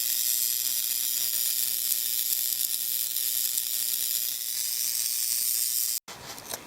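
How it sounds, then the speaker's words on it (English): Continuous hissing crackle of an electric spark in a magnetically quenched spark gap beside a permanent magnet, a steady dense buzzing sizzle lasting about six seconds before cutting off abruptly, followed by a brief quieter sound. "So let's observe how the spark behaves."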